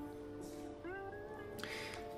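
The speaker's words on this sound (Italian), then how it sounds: "Gatti che si muovono." A cat meows a few times close by, drawn-out rising mews, one after another over a faint background hum.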